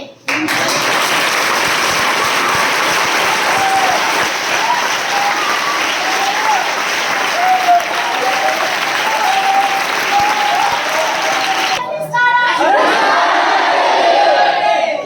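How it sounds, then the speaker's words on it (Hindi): Loud, dense clapping from a big crowd at an achievers' meeting, with whoops and shouted cheers rising through the applause, then a brief dip and a fresh burst of clapping and yelling. "आरडी के लिए इतना ताली"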